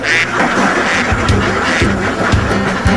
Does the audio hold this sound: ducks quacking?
yes